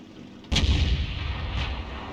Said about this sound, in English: The Lorraine is emptying his cannon into that TNH